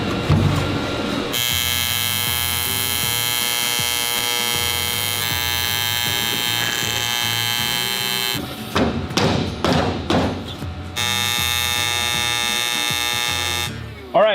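Tack welding on the Hoonicorn's frame: a steady, loud electric buzz holds for several seconds, then breaks into a run of short crackling bursts before resuming its drone.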